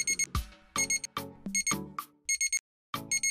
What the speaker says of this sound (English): The alarm rings at 6 a.m.